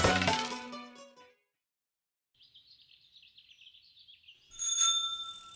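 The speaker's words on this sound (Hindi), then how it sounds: "हम ना मंदिर में घंटा बजा के आते हैं" A temple bell is rung, giving a bright metallic clang that rings out and fades, followed by a quiet stretch with faint bird chirps and then another ringing strike.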